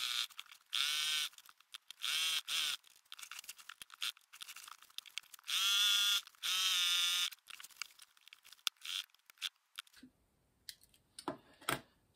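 A sewing machine stitches the lining of a Regency duster coat at a short stitch length, running in several loud, steady buzzing bursts of one to two seconds each, separated by quieter handling noises.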